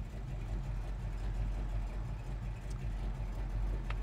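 A 1970 Dodge Dart Swinger with a 340 V8 idles steadily, a smooth, continuous low engine rumble close by with no other sounds.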